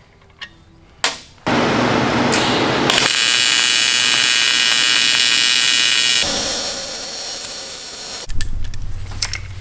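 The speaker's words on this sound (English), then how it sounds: "let me weld around the outside of it" Welding around the outside of a cast aluminum oil pan for an LS1 engine: a steady buzzing arc hums loudly for several seconds, then shifts to a harsher hiss before cutting off, with a few clicks and clunks at either end.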